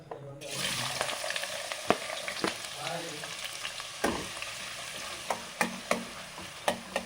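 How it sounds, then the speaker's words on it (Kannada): Chopped onions drop into hot oil for cabbage Manchurian and fry with a bright sizzle, punctuated by a series of sharp spatula taps and stirring clicks. "ಈರುಳ್ಳಿ ಹಾಕ್ಕೊತಾ ಇದ್ದೀನಿ. ಸ್ವಲ್ಪ ಫ್ರೈ ಆಗಬೇಕಿದು."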